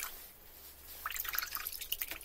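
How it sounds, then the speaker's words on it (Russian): Running tap water rinses cold bluing compound off a metal part, a faint steady wash that breaks into louder irregular splashing and dripping halfway through. "а далее смыть водой."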